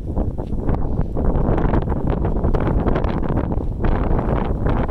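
Strong wind buffets the microphone outdoors during deer butchering, a steady loud rumbling roar with gusty swells throughout and no clear speech.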